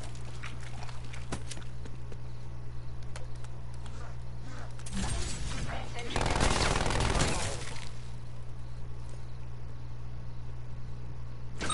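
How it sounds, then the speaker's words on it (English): A sentry turret in Call of Duty Black Ops Cold War, on the Firebase Z zombies map, fires a sustained machine gun burst amid rapid background gunfire, loudest for a couple of seconds midway over a low steady game hum. "Sentry turret out."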